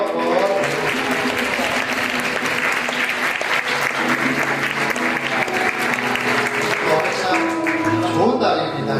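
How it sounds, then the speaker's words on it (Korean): A church congregation bursts into steady applause, a thick wash of many hands clapping at even strength for several seconds before tapering near the end, with a speaking voice briefly audible underneath. "우리 박수로 한번"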